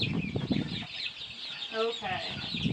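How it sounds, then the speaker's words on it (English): Chickens in a baby coop on a spring homestead give soft, fairly faint clucks and short chatter, mixed with rustling and some quiet talk. "Greta is a super sweet chicken"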